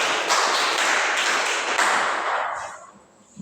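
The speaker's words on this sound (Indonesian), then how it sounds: "Kita berikan aplaus untuk Ronald" Classroom applause for a student named Ronald during a teaching simulation: a dense, loud burst of many hands clapping together for about two and a half seconds before it fades out.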